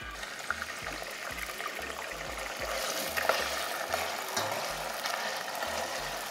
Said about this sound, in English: so we can hear the bubbling,